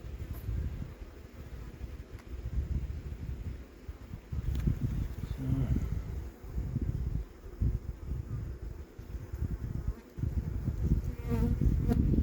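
A dense, steady buzz of many honeybees swarming close around a hive frame, continuous throughout with faint handling noises.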